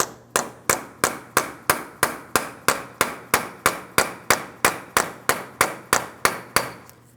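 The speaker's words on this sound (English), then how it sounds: "continue on with a hammer and punch directly in the center of the front axle." A hammer drives a punch against the center of the front axle on a 2007-2014 GMC Sierra 2500 HD, rusted and soaked in penetrant, giving about twenty sharp metallic blows at a steady, even rhythm, close and loud.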